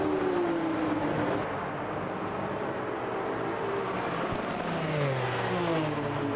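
Sportscars at Brands Hatch in a sim racing game, a continuous engine roar with several cars droning and shifting pitch as they climb and drop over the hill, one passing lower near the end.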